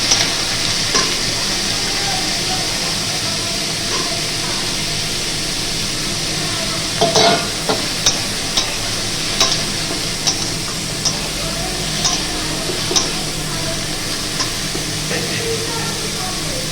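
Papaya stir-fried in a hot pan gives a loud, steady sizzle, with sharp clinks of a spatula against the pan at scattered intervals and a low rumbling hum underneath.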